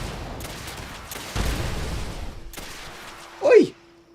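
Bursts of gunfire in Fallout 76, a loud crackling volley in the middle and a sharper shot near the end, under game ambience with no clear talk.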